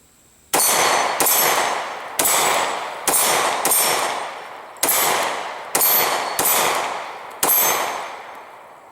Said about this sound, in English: let's see if we can make some steel ring here from the 12-meter line